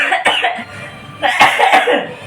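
A person coughs several times in quick, harsh bursts, close and loud, with short breathy pauses between the fits.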